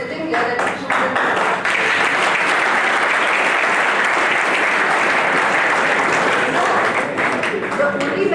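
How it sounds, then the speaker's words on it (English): A large audience at a BBA orientation programme claps steadily, dense sustained applause filling the hall at a loud, even level for several seconds before tapering slightly at the end. "give a huge round of applause for all of you who are sitting here"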